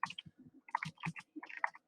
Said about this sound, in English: So I'll start typing the code with .type HTML